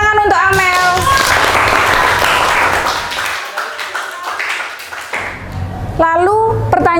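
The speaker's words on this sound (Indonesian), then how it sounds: "Tepuk tangan untuk Amel" A classroom of students claps for a classmate after she answers a question, a few seconds of dense, bright clapping that rises between stretches of talking and fades as a voice resumes.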